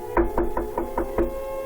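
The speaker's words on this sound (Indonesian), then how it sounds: "Trisno mengetuk pintu rumahnya seraya memanggil Hartini" Six evenly spaced knocks rap on the wooden front door of a house, close and fairly loud, a staged sound effect in an Indonesian mystery audio drama, with no voices.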